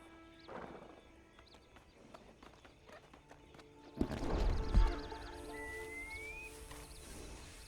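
Horse hooves clip-clop in Red Dead Online as a rider mounts and sets off, with a brief whinny and a louder burst of movement midway, set against quiet ambient game sound.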